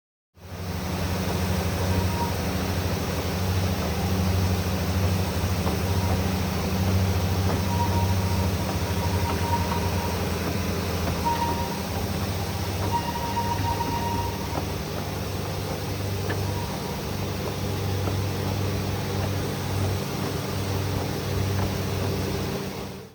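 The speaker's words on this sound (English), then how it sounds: "I could really hear the engines working hard as we climbed up the line" Steam locomotives on the Talyllyn Railway work hard climbing the line during an anniversary gala, heard from the first carriage as a constant loud rumbling roar of wheels and engine with no talking.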